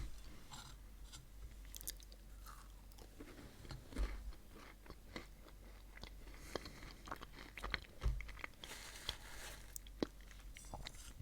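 Biting and chewing a Crumbl cookie, with soft crunches and wet mouth sounds repeating steadily up close, a few sharper bites standing out.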